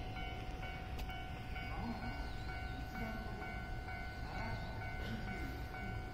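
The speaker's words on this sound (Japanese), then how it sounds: "次に上り方面に来る列車は上りの新快速かな。" A JR train runs on the up line at Uozumi Station during the morning rush, giving a steady rumble and a faint squeal while the platform hums with background noise.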